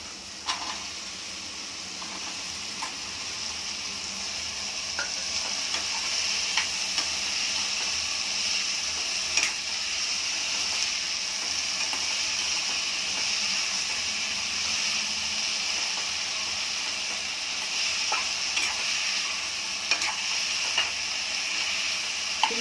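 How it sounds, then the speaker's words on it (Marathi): Capsicum peppers stir-fry in hot oil with tomatoes, a continuous soft sizzle and hiss over the whole stretch, broken by occasional faint clicks and scrapes of a spatula against the pan. "आता मिरच्या टाकून घेऊ"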